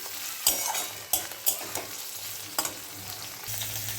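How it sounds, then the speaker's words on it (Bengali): Onion and capsicum fry in hot oil with a continuous sizzle, while a spoon scrapes and clinks against the pan in several sharp, close strokes. "এই যে এখানে আমি পেঁয়াজ আর ক্যাপসিকাম ভাজতে দিয়েছি"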